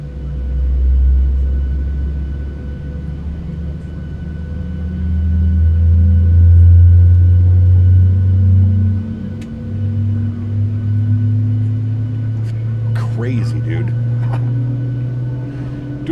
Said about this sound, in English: We'll go ahead and introduce fuel engine number 1.